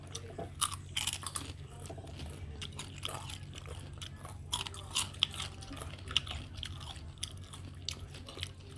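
Crunchy air-fried chicken being chewed up close, with repeated crisp bites and crunches in an irregular rhythm over a low steady hum.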